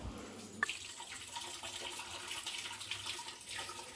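Rice and toor dal are washed by hand in water, with quiet sloshing and trickling and a faint splash early on, heard alone at low volume.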